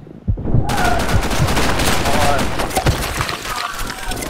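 Rapid automatic gunfire in the online shooter BlackShot, loud and continuous bursts of rattling shots filling the whole stretch, with a voice mixed in.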